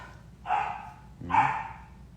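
A dog gives two short barks indoors, moderately loud and spaced about a second apart, with no talking.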